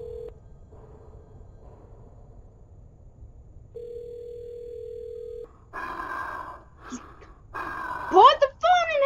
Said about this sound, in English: I'm calling him.